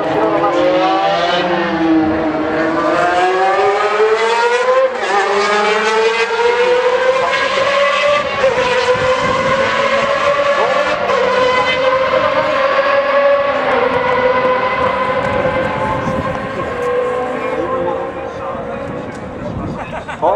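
A legendary Formula 1 car on a demonstration run at Suzuka during the 2013 Japanese Grand Prix roars loudly and continuously, its pitch climbing through the gears as it passes, with a commentator talking over it.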